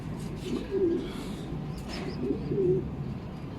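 A racing pigeon returning from a 327 km race at the loft gives a few soft, close coos, spaced over a few seconds against a low outdoor background.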